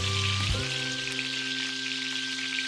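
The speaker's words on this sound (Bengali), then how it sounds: "এবার ডিমগুলো তুলে নিয়ে ওই তেলেই তেজপাতা, গোটা জিরে, এলাচ, শুকনো লঙ্কা ফোড়ন দিলাম।" Bay leaf, whole cumin, cardamom and dried red chilli crackle in hot oil left from frying eggs, a steady close sizzle with a soft burst of spattering near the start, alone with no voices.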